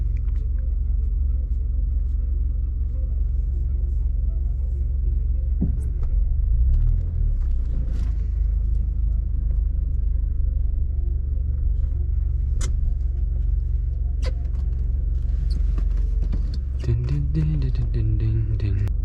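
A Subaru Forester 280 hp rally car runs a sprint rally stage, heard as a steady, loud low engine rumble and road drone throughout, with faint shifts and rattles toward the end.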